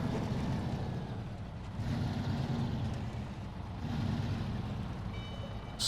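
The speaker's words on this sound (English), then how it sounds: "I like the way this truck sounds. It's got a nice deep rumble to it." A truck engine in the SnowRunner video game gives off a deep, continuous low rumble that swells and eases in slow waves, close and steady, with a faint high whine near the end.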